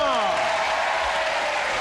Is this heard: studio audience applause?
yes